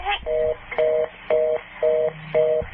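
After a telephone call is hung up, the line plays a repeating tone: five evenly spaced beeps with short gaps between them, clear and close on a phone line.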